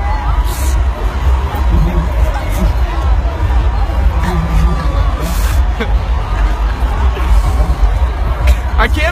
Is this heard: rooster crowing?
no